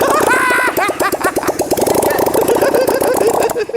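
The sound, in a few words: motorcycle engine running without exhaust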